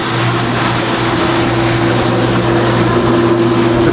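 A CMA 180UC commercial dishwasher's powerful motor drives its wash cycle with a loud, steady, broadband rushing roar and a constant low hum, unbroken across the few seconds.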